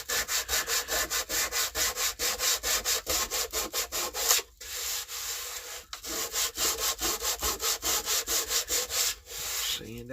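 Rapid, rhythmic scraping of sandpaper over wood filler, close and loud, with brief pauses between runs of quick strokes and no speech.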